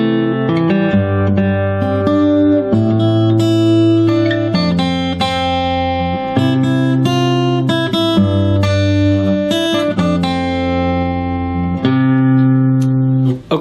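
Fingerstyle acoustic guitar playing a simple arrangement, plucked melody notes over a picked bass line, close and clear with steady rhythmic note changes and no talking.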